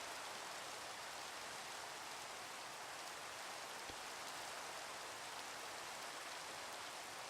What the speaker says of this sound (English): It's in rainy weather.